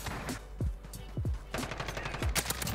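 A gold FAMAS rifle fires in a first-person shooter video game, with short rapid bursts of sharp gunshots repeating close and loud across a busy match.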